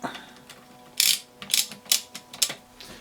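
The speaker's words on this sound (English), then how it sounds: "So I've got my trusty torque wrench here already set up for that." A torque wrench with a 6mm Allen key tightens a bolt on a Polini Thor 190 paramotor. It makes a quick series of close, sharp ratcheting clicks, about seven in a row.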